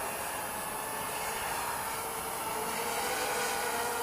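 The electric motor of a FeiLun FX127 radio-controlled plane in flight gives a steady, faint whirring drone that holds evenly from start to finish, with no voices.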